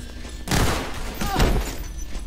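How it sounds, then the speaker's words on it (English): Shotgun fire in the video game Entropy: Zero 2 comes as two heavy booming blasts about a second apart, each with a brief echoing tail, loud and close, with no talking over them. "Somebody's running a shotgun."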